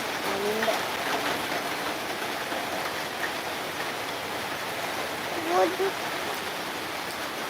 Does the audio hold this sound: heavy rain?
yes